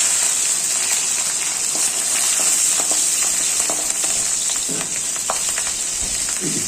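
Cumin seeds and green chillies sizzle steadily in hot oil, a close, even frying hiss with a few louder crackles and pops near the end.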